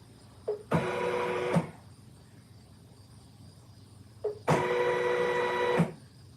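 Embroidery machine stitching a clutch in the hoop, with two bursts of rapid, steady mechanical whirring about a second long each, separated by a quieter hum and soft clicks.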